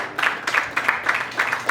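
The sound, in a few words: audience applause and cheering for the roast battle winner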